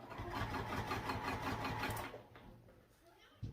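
A domestic sewing machine stitches steadily through the pocket area of a baby sling, a loud rapid mechanical chatter that runs for about two seconds, then slows and fades into quieter clicks and handling noise.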